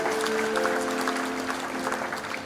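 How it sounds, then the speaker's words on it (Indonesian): A church congregation applauds God during a sermon, with steady clapping at moderate distance over a sustained keyboard chord playing underneath. "Tepuk tangan buat Tuhan Allah."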